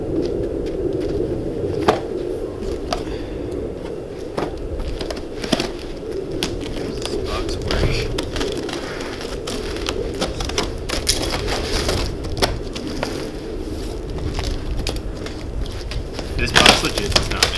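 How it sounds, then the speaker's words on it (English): Cardboard boxes from a turbo kit being cut open, with repeated sharp slicing, tearing and crackling snaps over a steady background hum, close by, with people talking at times. "Let's start cutting open boxes."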